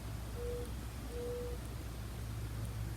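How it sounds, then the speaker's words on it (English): Two soft, low hoots from a bird, probably an owl, sound in quick succession in a quiet outdoor setting with a faint low hum. "Listen to the birds."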